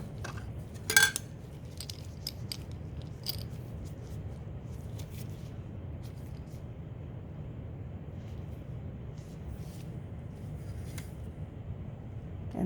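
Bleach treatment solution mixed in lab glassware: a sharp glass clink near the start, then light intermittent taps and clinks over a quiet low background hum, close and sparse, no voices.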